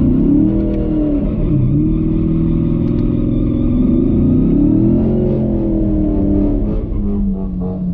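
Ford Shelby GT350 Mustang V8 revving loudly and continuously at a track day, the engine note rising and falling through several throttle blips close up with no talk.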